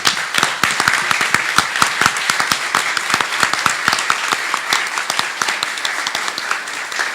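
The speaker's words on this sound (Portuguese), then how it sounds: "com essa salva de palmas, eu encerro o seminário sobre submersíveis" A seminar audience on submersibles and the Brazilian sea gives sustained, dense applause, many hands clapping steadily and fairly close throughout without a break.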